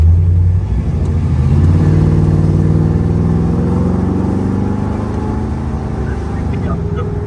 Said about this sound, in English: Transmission shifts just like it should.